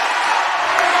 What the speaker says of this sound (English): As you can hear the crowd getting involved now